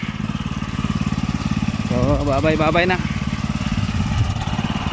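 A small garden engine, such as a water pump motor, runs at a steady rapid idle with a throbbing pulse. A voice speaks briefly over it midway.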